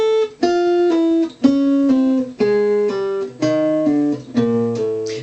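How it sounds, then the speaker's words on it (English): Slurring exercise on guitar using pull-offs, descending groups of ringing notes that step down in pitch, played up close in several short phrases with no voices over them. "So the pull-off exercise will sound like this."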